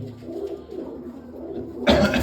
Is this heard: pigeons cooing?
yes